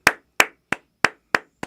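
Six slow, deliberate hand claps, evenly spaced and close by, each a sharp isolated crack with silence between, in a sarcastic rhythm.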